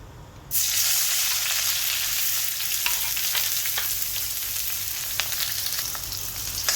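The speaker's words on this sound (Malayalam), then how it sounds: "ഇതിലേക്ക് 1 ടീസ്പൂൺ പെരുംജീരകം ഇട്ട് കൊടുക്കാം. അപ്പോൾ അതിലേക്ക് ഒരു മീഡിയം സൈസ് സവാള ഇട്ട് കൊടുക്കാം." Sliced onion and fennel seeds frying in a hot pan for a crab roast, a loud, steady sizzle that bursts in suddenly and continues throughout with faint stirring crackles, no talking.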